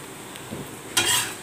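Sweet lentil poli (paruppu poli) being flipped on a hot pan, giving a soft scrape followed by a brief burst of close sizzling that settles into a steady frying hiss.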